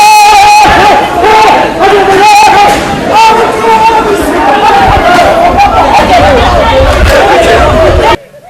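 Clash between UFDG activists and security forces at Cellou Dalein Diallo's home, with a loud crowd shouting and chanting continuously, voices overlapping in a tense, agitated roar until it cuts off abruptly.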